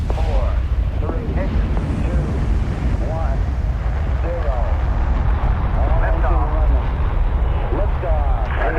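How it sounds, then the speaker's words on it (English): A deep, continuous roar from the Saturn V rocket engines at the Apollo 11 liftoff rumbles loudly and steadily throughout, with radio-style voices talking over it. "Liftoff on Apollo 11."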